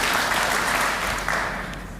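Applause from an audience at a literacy gala follows a speech, a full steady roar of clapping that holds and then begins to thin out toward the end.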